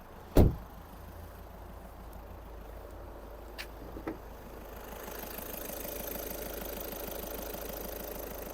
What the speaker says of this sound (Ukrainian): Робота двигуна, двигун працює гарно